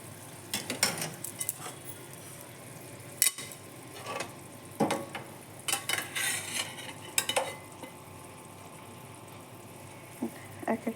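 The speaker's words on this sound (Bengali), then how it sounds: "এখন ভেজে রাখা মাছগুলো ছেড়ে দেব।" Fried katla fish pieces slipped one by one into simmering curry gravy for doi katla, giving soft scattered splashes, spoon clinks and faint sizzling bursts close by with no talk.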